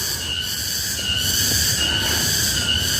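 Cicadas in Bogor Botanical Garden give a loud, continuous shrill buzz with a slow pulsing swell, heard alone with no voices.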